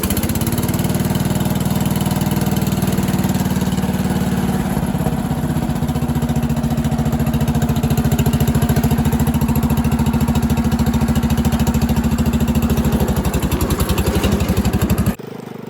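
A small Power King garden tractor engine runs steadily and loudly up close, a continuous throbbing idle that holds for the whole stretch before cutting out abruptly at the end.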